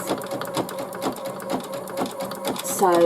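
An embroidery sewing machine stitches appliqué onto a T-shirt in a hoop, giving a steady, fast mechanical rhythm of needle strokes close by; a voice says a word near the end.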